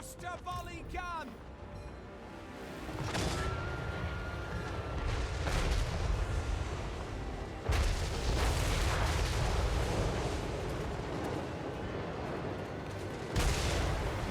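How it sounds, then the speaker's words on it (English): Hellblaster volley gun unleashing a booming, rumbling barrage in a video game battle, heavy sustained blasts rolling on for several seconds after a brief opening, with talk over parts of it. "Hellblaster volley gun!"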